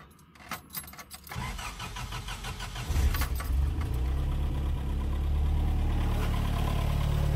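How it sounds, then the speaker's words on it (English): A 1986 Toyota turbo 22R-TE truck engine, fitted with a 2.5-inch exhaust and no catalytic converter, cranks and catches after a few key jingles, then settles into a loud, steady rumbling idle. "Let's start it up real quick here"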